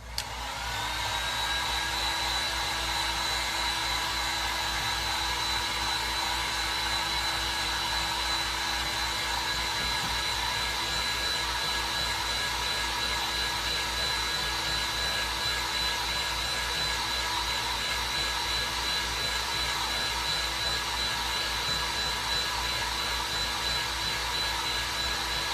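A hair dryer blows steadily over a freshly painted pumpkin craft project, a loud, continuous whine and whoosh holding unbroken throughout with no talking.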